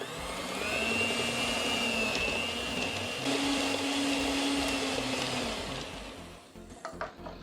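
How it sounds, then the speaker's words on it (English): An electric mixer whirs steadily as it softens butter for a red velvet cake, a loud sustained motor drone with a slight pitch shift, winding down near the end into a few scraping knocks. "I'm actually going to start mixing the butter first just to make sure it's all soft and everything."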